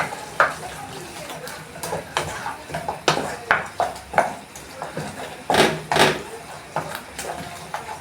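Beef with coriander leaves stirred in a frying pot, a steady soft sizzle under repeated scraping and clinking strokes of a utensil against the pot, close and moderately loud.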